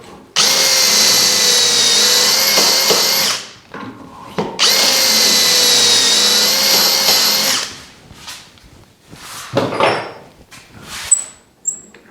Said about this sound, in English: Now we're going to another setting, a lower setting on the drill.